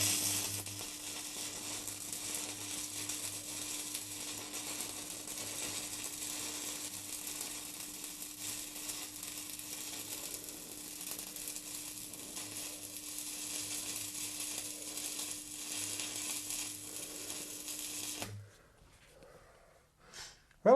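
Stick welding with a Kemppi MasterTig 2000 MLS machine: a steady, close crackling hiss of the burning electrode runs for about eighteen seconds over a low electrical hum, then cuts off abruptly into near silence.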